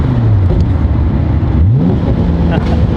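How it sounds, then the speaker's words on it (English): Engine of a 700+ hp Nissan Skyline R33 GTR with paddle shift, loud and close in the cabin, with downshift blips sweeping the pitch down and back up twice over steady wind noise; people talk over it. "let's feel the downshifts here"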